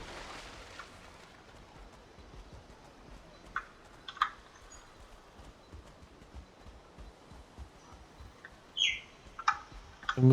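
Birds in the Valheim game world giving a few scattered chirps and brief calls, faint to moderate, over a low outdoor ambience with occasional soft knocks.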